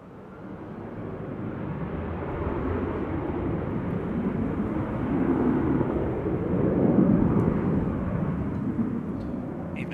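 A Jet2 jet airliner departs Manchester Airport bound for Alicante, giving a broad, steady rumbling roar that swells and peaks mid-climb before easing slightly, heard alone at a moderate distance.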